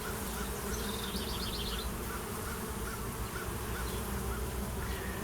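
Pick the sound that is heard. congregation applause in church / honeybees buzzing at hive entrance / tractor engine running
honeybees buzzing at hive entrance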